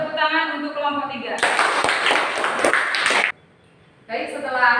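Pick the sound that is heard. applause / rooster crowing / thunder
applause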